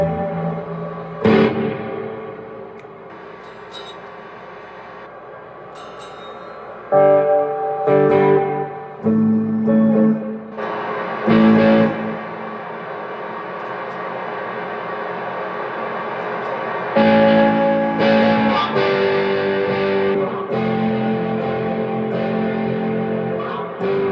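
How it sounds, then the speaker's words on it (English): Electric guitar driven through an Ibanez Tube Screamer and a distortion pedal into an amp at low volume, playing sustained overdriven chords and single notes with bursts of louder strums, alone with no talking. "I'm going to turn on my Ibanez tube screamer and my distortion."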